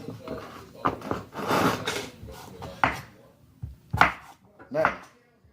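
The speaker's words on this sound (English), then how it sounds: "We're gonna chunk up our potatoes really well" Potatoes cut into chunks with a knife, several firm thunks and scrapes on a cutting board, close by, with brief pauses and a voice talking in between.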